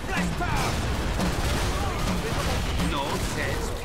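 Gunfire in the zombie shooter Killing Floor 2 keeps up a dense, continuous rattle of shots and blasts for the whole stretch, loud and close, with game noise and voices mixed in.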